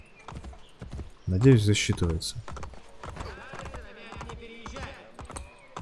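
Horse hooves clip-clop in Assassin's Creed Brotherhood, a brief burst of steady footfalls standing out early, followed by lighter game sounds while someone talks over it.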